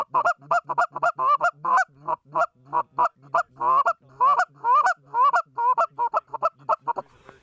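Rapid, loud goose honks repeat in bursts for several seconds during a Michigan waterfowl hunt, likely a hunter working a goose call, close and alone with no talk.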